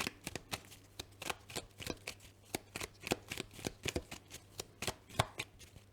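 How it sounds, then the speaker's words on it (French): Tarot cards shuffled by hand in a quiet room, giving a fast, irregular run of crisp slapping riffles and soft falls, close and clear, with no talking over them. "toutes les cartes qui tombent"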